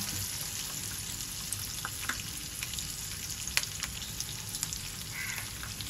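Mustard seeds crackling and sizzling in hot oil for a tempering, a steady dense fry noise with scattered sharp pops throughout, close and alone.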